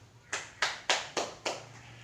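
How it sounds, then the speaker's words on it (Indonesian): In a high school classroom, students clap for their classmates in five loud, evenly spaced claps struck together, with a quiet hum underneath and no talking. "Tepuk tangan dulu buat teman-temannya."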